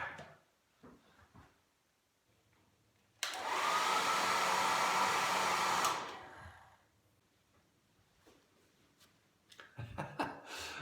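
A hair dryer blows steadily for about three seconds to dry makeup applied as a fake beard. It is loud and close, with quiet handling noises before and after.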